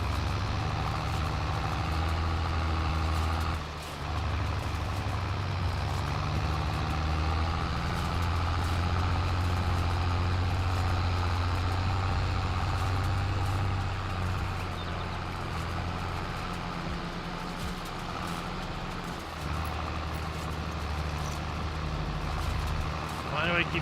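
A tractor engine in Farming Simulator 22 rumbles and idles steadily for the whole stretch, a continuous low mechanical drone with slight shifts in pitch and load.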